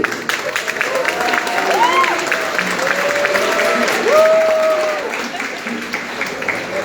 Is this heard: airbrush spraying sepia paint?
no